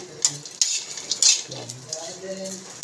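Dried anchovies stirred into fried rice in a hot pan, with a spatula scraping and tapping the metal over a soft sizzle, close and moderately loud.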